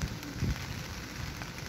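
Steady rain pours on an outdoor site in Telangana where rural employment guarantee labourers dig pits for planting saplings, a dense, even hiss with a few heavier spatters, no talking.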